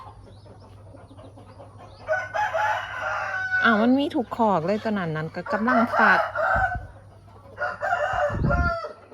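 Farm chickens, including a hen sitting on eggs, cluck repeatedly close by while a rooster-like call rises and falls in the middle, with a person talking over and between the bird sounds.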